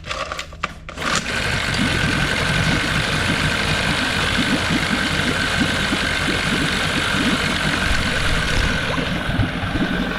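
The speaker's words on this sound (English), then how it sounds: "So once it's running, I want to listen to hear how the motor sounds. So it's idling a little bit high, which is okay." Used outboard motor idling a little high just after starting, a steady close mechanical drone running nearly unbroken after a brief start-up sputter.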